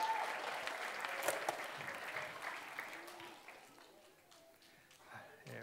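Children's magic show audience applauding a young volunteer, a steady patter of clapping that gradually thins and fades, with cheering and voices mixed in.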